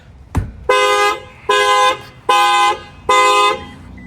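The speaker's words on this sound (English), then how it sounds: "That will set off the alarm." Factory alarm of a 2023 Lexus ES350, set off by a bang on the tire: one sharp knock, then four loud, evenly spaced horn honks, each held about half a second, alone and close.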